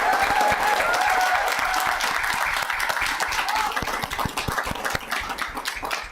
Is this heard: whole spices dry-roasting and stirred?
no